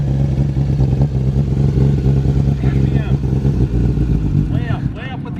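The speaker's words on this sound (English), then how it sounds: "Just bring the RPMs up. Yeah, rev it up like" A shifter kart engine idling roughly and revving, a loud steady buzzing drone with uneven throttle blips, while people talk over it.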